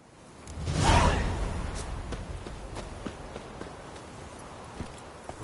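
A horse gallops in The Witcher 3 video game, with a whooshing swell early on followed by a run of rhythmic hoofbeats that stay fairly quiet under the game's ambience.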